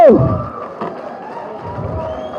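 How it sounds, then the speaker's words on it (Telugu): Cheers and applause from a crowd at a political gathering in Armoor. A loud shout opens it, then a sustained, moderately loud crowd roar follows. "ఇప్పుడు గట్టిగా చప్పట్లతో చప్పట్లు"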